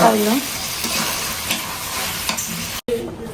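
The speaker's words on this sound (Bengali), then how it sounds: "এই যে এখন হচ্ছে মাছটা দিয়ে দেওয়া হচ্ছে তরকারিতে" Loud, steady sizzling as fish is added to a curry in a pan, with stirring scrapes; a brief dropout near the end before the frying hiss resumes.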